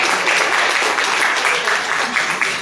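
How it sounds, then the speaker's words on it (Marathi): Loud, continuous audience applause at an event, a dense even patter of many clapping hands that holds steady and begins to thin slightly near the end. "त्यामुळे एकदा इथूनच त्यांच्यासाठी जोरदार टाळ्या वाजवल्या."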